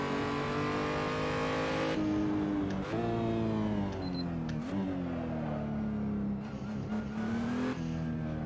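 A race car driven around a track in the RaceU racing game, engine droning loud and close, revs rising and falling through gear changes and corners, with a brief tire squeal.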